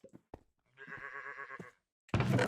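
A cow in the Minecraft modpack FTB StoneBlock 4 lets out a single drawn-out, wavering low moo, with game clicks before it and a loud burst of noise at the end.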